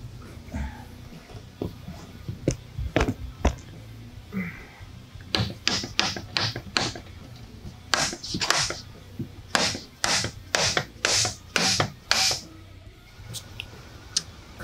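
Metal tools work on the front differential cover of a 2010 Nissan Xterra, an M205 axle, producing a run of short scraping and tapping strokes that come faster and louder toward the end, close up with no talk.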